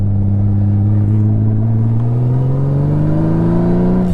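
A Honda Goldwing motorcycle pulls away from a stop, its engine droning loud and close with a steadily rising pitch as it accelerates, with no talking over it.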